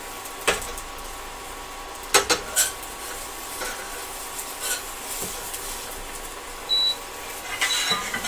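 A keto breakfast quesadilla is folded over in a frying pan: faint utensil scrapes and light clinks against the pan sound over a quiet background, with a couple of sharper taps.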